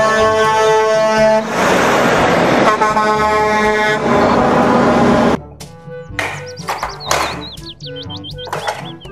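Toy trucks, including a Mack container truck, play a dense stretch of electronic engine and horn sound effects with loud honking toots, followed by sparser chirping beeps and clunks.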